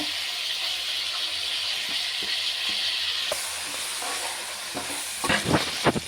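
Mint and coriander leaves fry in an oiled pan for chicken biryani, giving a steady, close sizzling hiss. Brief clatters of stirring come near the end, and no one speaks.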